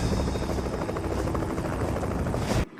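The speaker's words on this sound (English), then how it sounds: "I would think this helicopter would be faster than these horses" A helicopter's rotor thrums loud and steady overhead, a continuous dense roar with blade chop that cuts off abruptly at the very end.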